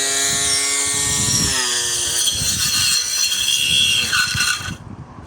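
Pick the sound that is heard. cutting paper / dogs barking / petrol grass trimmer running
petrol grass trimmer running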